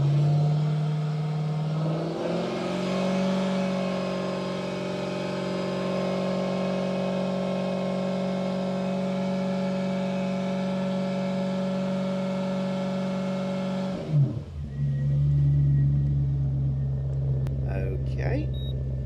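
A car engine revs up from idle and holds steady at about 2,500 RPM, a loud, sustained drone that drops back to idle near the end, with no talking.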